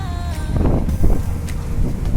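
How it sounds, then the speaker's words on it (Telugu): Strong, gusty wind at sea in Ha Long Bay buffets the microphone in a steady low roar, with a faint tonal hum early on and no voices. "గాలి విపరీతంగా ఉంది"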